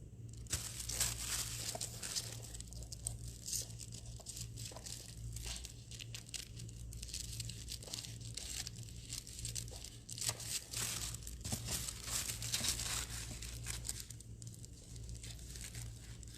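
Continuous crinkling and crumpling of thin tissue paper, close up, with irregular rustling bursts over a steady low hum.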